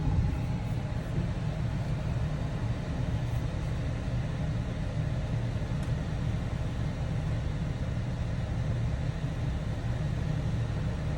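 A 2014 Jeep Wrangler Unlimited Sahara pulling out and driving, heard from inside as a steady low engine and road rumble, continuous and even with no talk.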